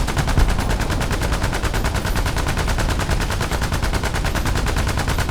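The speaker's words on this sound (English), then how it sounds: "you can even see I am actually shooting at the commander's hatch" Sustained rapid automatic fire from a GAZ-AAA truck-mounted anti-aircraft gun in the video game War Thunder, loud, close and evenly spaced bursts with no pauses.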